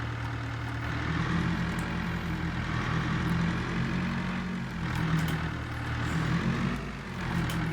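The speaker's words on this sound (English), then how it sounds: "This car is loud." A loud, heavy car engine idles steadily in a video game, a deep rumbling drone holding level for several seconds with slight swells and no talking.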